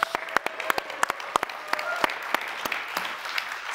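Audience at an AMD data center and AI technology premiere breaks into applause after a partnership announcement, a few sharp claps leading into a moderate, steady patter of many hands that thins slightly toward the end.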